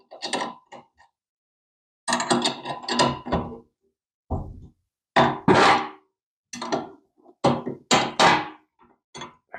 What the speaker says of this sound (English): we've got to loosen up our jam nut here